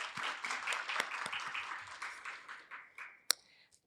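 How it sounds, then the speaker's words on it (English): An audience at a rights event applauds, a dense bed of many hands clapping that thins out and fades after a few seconds, ending with a few scattered claps. "I would like us to give her another hand of applause"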